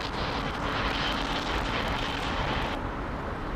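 An airliner landing in a crosswind at London Heathrow makes a steady, loud engine roar, continuous and fairly close, dropping off in its upper hiss near the end.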